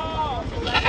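A goat bleats in a busy goat market, a short wavering cry rising out of a dense crowd murmur and background chatter.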